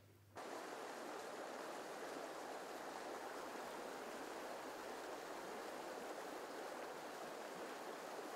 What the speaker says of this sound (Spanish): El principal elemento de esta llanada es el río Zadorra.